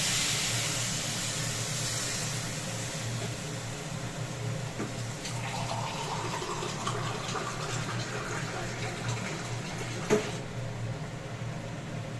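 Water poured into a pot of pulao in a home kitchen, a soft, steady trickle over a low background hum, fairly quiet and close.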